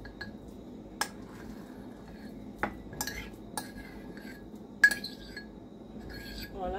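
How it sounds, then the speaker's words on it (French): A spoon stirs stuffing mixed with breadcrumbs for stuffed round courgette, giving sparse, light clinks against the bowl over a quiet kitchen background. "Voilà, donc maintenant je vais tout mélanger."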